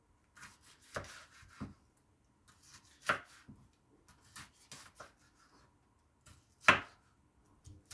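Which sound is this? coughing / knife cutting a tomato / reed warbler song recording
knife cutting a tomato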